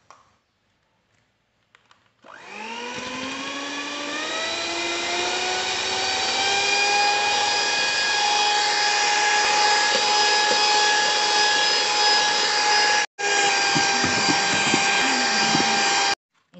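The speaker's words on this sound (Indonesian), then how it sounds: "Kemudian sekarang saya akan kocok sampai telurnya mengembang." An electric mixer beats eggs with powdered sugar and vanilla for a layered cake batter. A loud steady whine rises in pitch as the motor spins up, then holds evenly, broken once by a brief stop. No one talks.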